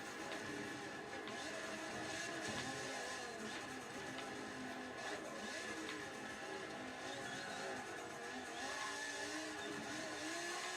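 Maserati Ghibli racing in Forza 7 at over 200 miles an hour, a steady high-pitched engine drone with faint varying rumbles, continuous and fairly quiet throughout.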